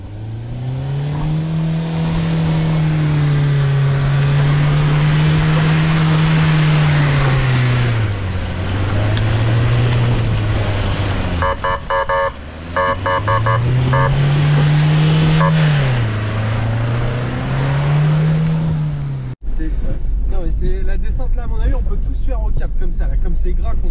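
A Peugeot 206 climbing a slippery, greasy slope, its engine droning loud and close with rising and falling revs as it builds momentum, then cutting off abruptly near the end into a different, noisier scene.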